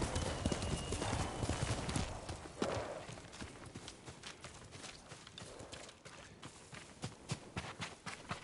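Horse hooves clip-clopping in the video game Ghost of Tsushima, a soft patter of steps under ambient noise, busier at first, then slower and sparser.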